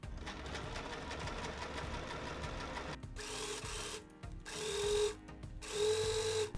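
A sewing machine stitching a fabric facing onto a cardigan neckline, a steady close mechanical whir broken by brief stops and restarts with a few short higher-pitched whines.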